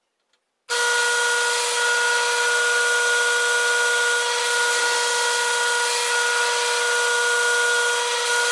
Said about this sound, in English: We got the drill all set up.